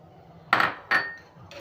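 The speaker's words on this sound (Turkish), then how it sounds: "Şimdi karıştıracağız." A spoon clinks and knocks against a bowl in a few short, sharp, close strikes while kısır salad ingredients are stirred with oil.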